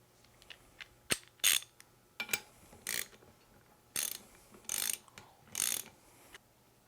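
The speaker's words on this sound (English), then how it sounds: "Use the longer bolts to press the shaft into the bearings." Bolts being tightened to press a tamper vibrator motor shaft into new bearings, giving a series of close, sharp metallic ratcheting bursts in irregular clusters, with no talk.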